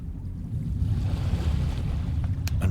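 Water flowing and lapping at the bottom of a slope in the video game Dagon, a steady low rushing wash with soft breezy texture and a few faint splashes near the end.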